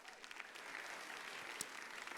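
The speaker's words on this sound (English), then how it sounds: "another round of applause" An audience at the Rose Queen coronation applauds in a faint, distant, continuous wash of many hands clapping, with no clear voices.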